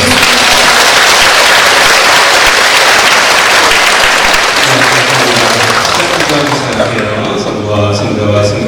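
Audience applause welcoming a priest at a women's Legion of Mary training session, sustained, loud, close clapping that keeps going for several seconds, then thins out as organ or music tones and a voice come in near the end.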